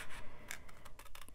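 Scissors trim the edge of paper for a Christmas mini album in a series of quick, crisp snips and rustles. The cuts are close and quiet, with no speech.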